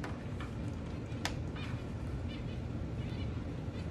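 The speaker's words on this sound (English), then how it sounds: "zebra finches. There's six of them in there." Six zebra finches tweet in the background, with faint, brief, high chirps scattered over a steady low room hum.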